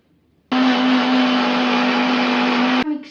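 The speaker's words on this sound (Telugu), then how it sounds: "మిక్సీ పట్టుకొని మెత్తని పేస్ట్ చేసుకోవాలి" A mixer grinder blending soaked almonds and cashews into a smooth paste, a loud steady whirring motor at constant pitch that starts abruptly and cuts off sharply after a couple of seconds.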